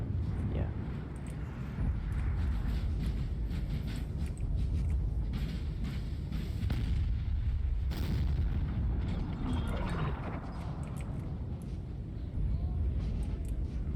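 French artillery cannons fire from a hill in the Napoleon Total War video game during an 1805 War of the Third Coalition battle, producing distant booms under a steady battle rumble while someone talks.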